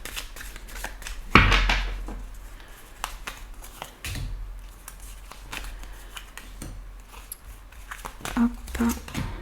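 Tarot cards are shuffled by hand for a reading, giving soft riffling and slapping bursts close by, with one sharper flurry near the start and scattered rustles after.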